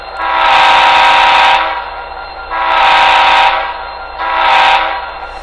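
An S5T locomotive air horn from a Tsunami2 sound decoder blows three loud, close chord blasts, two long and one shorter, with brief quiet gaps between them.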